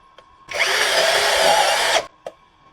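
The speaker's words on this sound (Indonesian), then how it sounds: "Kita akan coba untuk penyekrupan di baja ringan." A Xenon X-CDID707N cordless brushless impact drill set to speed 2 in drilling mode drives a screw into light steel framing, giving one loud, steady whine of about a second and a half, close by, with brief clicks before and after.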